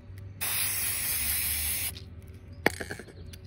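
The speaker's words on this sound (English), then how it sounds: "next I'm gonna coat this with just an acrylic spray sealer" Acrylic spray sealer hisses from a can onto a card in one long burst of about a second and a half, followed by a shorter second spray and some light handling clatter.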